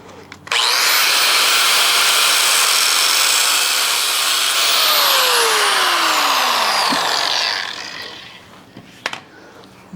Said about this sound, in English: I think we're just going to step straight to the grinder on this one.